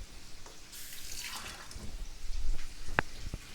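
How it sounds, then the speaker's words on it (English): A short trickle of water poured into a pan of cooking tomatoes for dal fry, soft and close, ending with a couple of light drips and clinks. "I'm just putting a slight water in it."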